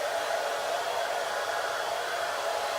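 A hair dryer blow-drying and diffusing curly hair gives a steady, loud, close whoosh of rushing air with a constant motor hum, unbroken and with no voices.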